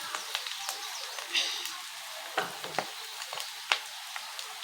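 Masala stirred into a frying egg rice mixture in a pan: steady soft sizzle under repeated scraping strokes of a spoon, brief knocks spaced through the clip, close and moderately quiet, no talking.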